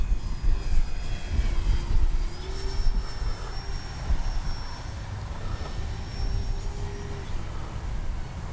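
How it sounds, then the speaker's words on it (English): A Durafly T-28 radio-controlled model airplane flies past with its landing gear down, a thin whining electric motor tone rising and falling over heavy wind rumble, moderately distant. "Just so you can see it fly by with the gear down."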